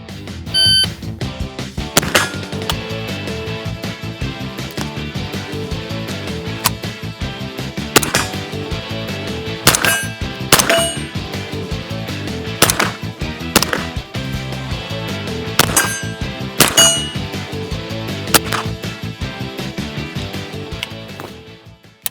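Gunshots ring out against steel shooting targets in a timed drill with a Hatsan Bull Tac shotgun or Grand Power Stribog. Loud sharp reports land in irregular bursts, each with a metallic ring, and no one speaks.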